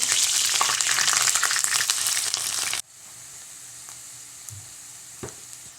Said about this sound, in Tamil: இப்போ தாளிக்கிறதுக்கு பெரிய வெங்காயம் வெட்டி வச்சுருக்கு